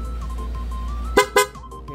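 A PIAA loud horn on a Yamaha Aerox 155 scooter, wired in a dual-horn setup, gives two short, loud blasts in quick succession over a steady low engine hum.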